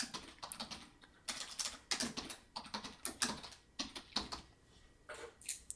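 Keys tapped on a computer keyboard while a story name is typed into Clip Studio Paint, coming in short irregular bursts of clicks, close and fairly quiet, with no voices.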